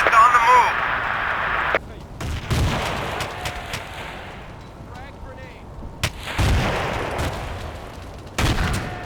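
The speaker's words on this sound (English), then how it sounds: "Frag grenade." Frag grenade blast in Battlefield 2 combat in Karkand town, with heavy booming explosions and gunfire bursts among scattered battle noise; the first section carries radio-style in-game voice chatter.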